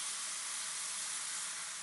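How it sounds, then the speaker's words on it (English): Meat cooking in a hot pan gives a steady, dense sizzle, a continuous broadband hiss at moderate volume that holds even throughout with no voices over it. "The sizzle of cooking meat"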